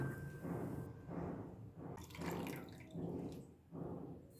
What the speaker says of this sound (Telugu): మనం ముందుగా నానబెట్టిన చింతపండు వాటర్ని కూడా వేసేసుకోవాలి